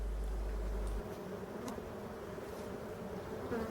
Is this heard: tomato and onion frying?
no